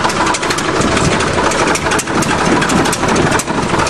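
A huge bulldozer's diesel engine runs steadily at close range on a farm, a loud continuous rumble with slight pulsing and no talk over it.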